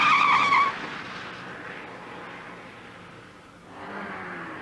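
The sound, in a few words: white Austin Montego car speeding away, skidding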